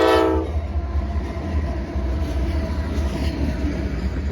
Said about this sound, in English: The first train up today on the Sub is CSX's B339 from Bone Valley, heading down to Brandon, Florida, fully loaded with rock